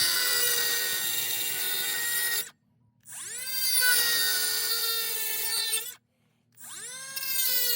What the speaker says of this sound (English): You can get yourself a diamond blade and cut it that way.